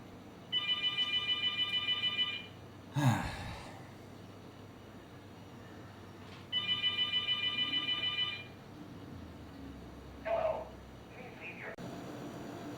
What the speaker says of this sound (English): why does my phone always ring when I'm making a video?